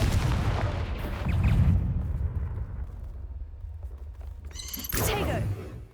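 Confringo fire spell explosions in the Hogwarts Legacy video game, a loud, booming blast that rumbles and decays over a couple of seconds, followed later by another sharp burst.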